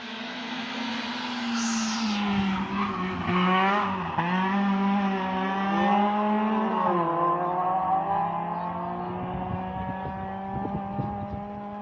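Race car at a hill climb, its engine droning with strong harmonic tones that rise and fall as it climbs through gears, heard steadily for several seconds without speech.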